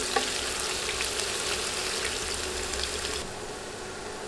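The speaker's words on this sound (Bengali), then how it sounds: "পেঁয়াজ নেড়ে 1 মিনিট ভাজবো।" Two sliced onions stir-frying over medium heat for vegetable khichuri, a dense continuous sizzle that drops slightly in level near the end, close up with no talking.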